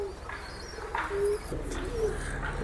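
A Giribaz pigeon at a pigeon sale gives soft, low throaty coos in a few rolling phrases, close and clear over a quiet background murmur.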